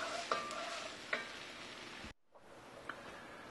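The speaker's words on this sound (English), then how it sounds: "So I'm going to put that in my pan with the onions and just give them a little cook first for about a minute or two" Garlic and onions cooking in a pan, a steady close sizzle and fry with a few sharp clicks of stirring, cut by a brief gap, then a quieter sizzle resumes.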